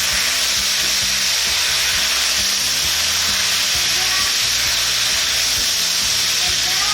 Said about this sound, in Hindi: हम सुर्ख मिर्च डालेंगे और फ़ौरन मिक्स कर लेंगे ताकि जले नहीं